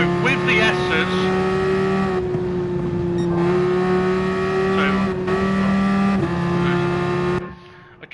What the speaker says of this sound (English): I can barely hear myself over the car